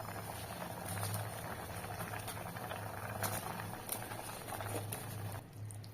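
Water at a rolling boil in a pot while cooking tomato rice, a steady bubbling patter with irregular pops, close by and continuous with no talking.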